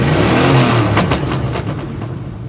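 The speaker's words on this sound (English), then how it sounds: "And maybe I'll rev it a few times." A 1977 Chevy mini monster truck's engine revs loudly up close, its pitch rising and then falling back in a few strong pulls, with no voices.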